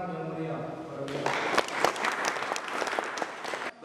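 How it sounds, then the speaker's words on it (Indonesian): An audience breaks into steady applause after a solemn song at a staged youth congress in a historical short film, the clapping dense, loud and sustained for several seconds after a quieter tonal opening. "Sekali lagi, beri tepuk tangan yang meriah pada beliau"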